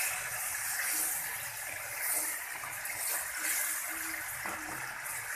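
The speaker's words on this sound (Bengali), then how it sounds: "অল্প জল দিলাম" A little water poured into a pan of boiled bitter gourd (karela) being cooked, a soft continuous gush and sizzle at low level with no talking.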